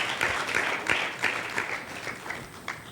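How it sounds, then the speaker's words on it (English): Applause from a forum audience after a youth presentation, a steady wash of many hands with scattered sharper claps, moderately loud and fading slightly toward the end. "Please clap for me."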